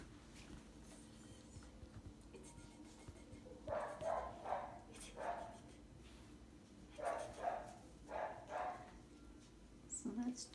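Five-week-old female puppies yip and whimper in short clustered bursts, fairly faint against a quiet room with low background murmur.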